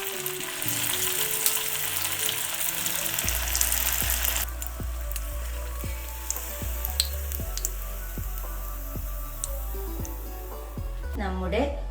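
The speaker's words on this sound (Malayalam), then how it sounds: "ഇനിയിപ്പം നമുക്കിത് ഫ്രൈ ചെയ്തെടുക്കാം" Vegetable cutlets sizzle and crackle in hot oil in a kadai, a dense steady frying hiss broken by sharp periodic clicks and pops.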